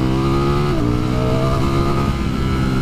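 A 2020 Ducati Streetfighter V4 motorcycle engine revs loudly and close, its harsh, angry growl rising and falling in pitch as the throttle is worked, continuous through the clip with no talk.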